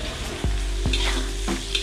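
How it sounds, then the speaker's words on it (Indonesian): Ground spice paste sautéing in a pan with lime leaves and bay leaves for Betawi beef semur, a steady close sizzle broken by a few sharp stirring scrapes, with no voices. "kita tumis bumbu halusnya bersama dengan daun jeruk dan daun salam"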